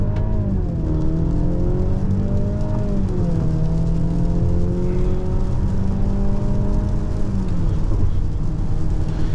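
A 2024 Mercedes GLC 300 accelerates hard on a wet road. The engine drone rises steadily in pitch through the gears, loud and steady from inside the cabin over a constant road and tyre rush.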